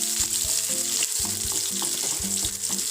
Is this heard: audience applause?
no